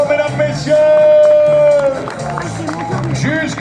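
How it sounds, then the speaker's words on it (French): Audience at an outdoor track event clapping and cheering as a machine runs to the end of the course, loud, dense applause with whoops and crowd noise, and a voice talking over it. "avec vos applaudissements, mesdames, messieurs"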